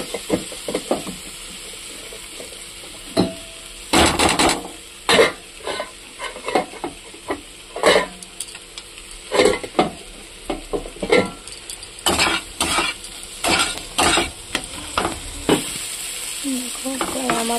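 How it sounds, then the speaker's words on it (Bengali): Cashews and tomatoes fry in a pan for a vegetarian dish, a steady close sizzle broken by repeated loud scraping strokes of a spoon against the metal. "এটাকে ভালো করে ভাজবো।"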